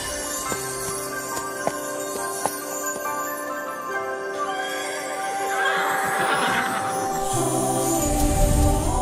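A horse whinnies near the end, rising over a sustained musical backdrop of tones with faint clicks early on.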